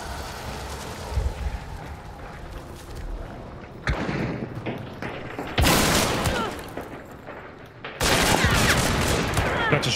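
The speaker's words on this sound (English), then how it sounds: "That's a shotgun." A shotgun firing in the game Hunt: Showdown, with loud abrupt blasts that start dense bursts of sound and cut in sharply over a murky background.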